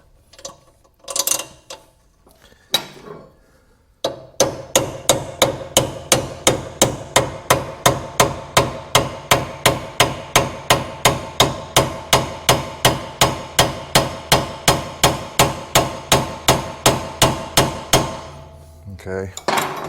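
A hammer strikes an old bolt again and again to drive it into a Mazda 3 ball joint, making sharp metallic taps. A few scattered blows come first, then a long steady run of evenly spaced, loud close hits.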